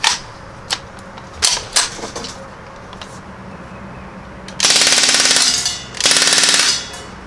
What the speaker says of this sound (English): Now I'm just going to dump one as fast as we can dump it.